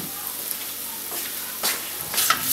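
Onion sizzles steadily in a pan of fried rice seasoned with salt and pepper, with a few louder scraping stirs of a spoon breaking through the frying hiss.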